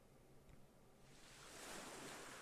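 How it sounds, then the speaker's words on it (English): Ocean waves wash in from the opening scene of the card game Voice of Cards: The Forsaken Maiden, starting faint and swelling into a steady broadband surf roar by the second half, with no voices. "you can hear the sound of the waves"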